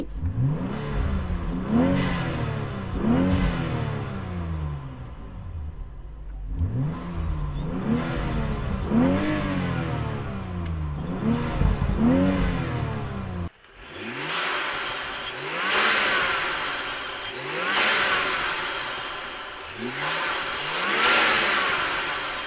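A BMW engine fitted with a performance air intake revs repeatedly, rising and falling in pitch with each throttle blip, loud and close, with a throaty intake roar and no talking.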